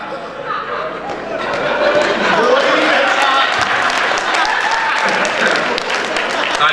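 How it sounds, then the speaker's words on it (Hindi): An audience at a Hindi poetry gathering (kavi sammelan) applauds loudly and steadily, dense clapping filling the room with some laughter and crowd murmur mixed in. "ताली तो आप ऐसे बजा रहे"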